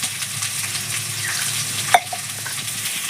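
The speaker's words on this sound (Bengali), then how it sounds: "খুব সুন্দর ভাজা হয়ে গেছে কালারটাও চেঞ্জ হয়ে গেছে" Soya chunks fry in a pan with vegetarian spices, giving a steady, close sizzle and crackle the whole way through, with one sharp stir or clatter near the middle and no voices.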